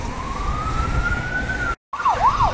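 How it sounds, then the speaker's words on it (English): An ambulance siren on a road, a loud rising wail followed after a brief gap by fast alternating yelp cycles, heard over traffic noise. "There's an ambulance now"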